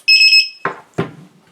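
A drone battery low-voltage buzzer on an Eachine EC250 quadcopter gives a short burst of shrill rapid beeps, followed by two sharp clicks or knocks.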